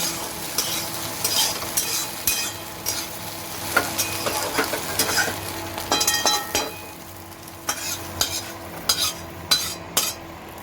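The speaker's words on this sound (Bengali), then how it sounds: "ডিমটা একটু হালকা লাল লাল ভাজা হয়ে গেলে তখন ডিমটাকে আমি তুলে নেব।" An egg fries in oil in a pan with a soft, constant sizzle, broken by sharp spatula scrapes and clatters at irregular intervals. No voices are heard.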